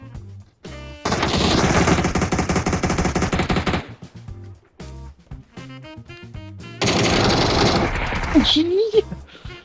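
Automatic rifle fire in the video game PUBG, loud close bursts of rapid shots in two long volleys separated by short single and clustered shots, with players talking over it.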